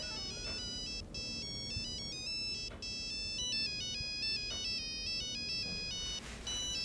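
A mobile phone ringtone plays a bright repeating electronic melody indoors, loud and continuous, with no voices over it.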